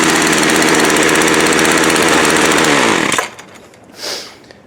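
Craftsman 17-inch 25cc gas string trimmer engine running loud and close with a steady high buzzing drone for about three seconds, then cutting off abruptly, followed by a faint rustle.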